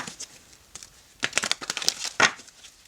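Rider Waite tarot cards are shuffled by hand, a few soft papery riffles and crinkling flicks up close, quiet at first and then a quick flurry of crisp card snaps.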